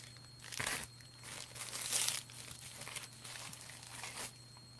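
A knife slits open a mailed package, with close crinkling and tearing of packaging in a few bursts, the loudest rip coming about midway, between quieter rustles.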